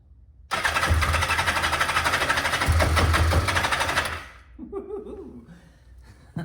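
Kawasaki Zephyr 750 motorcycle engine cranking with no choke connected, a loud steady churning starter drone for about three and a half seconds that stops abruptly, followed by faint clanks and a brief quieter rumble.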